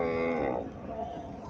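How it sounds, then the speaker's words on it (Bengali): A black-and-white Friesian dairy cow moos in a cattle shed, one drawn-out low call that fades after about half a second, with livestock background noise continuing. "এখানে আরো একটা গাভী দেখা যাইতেছে"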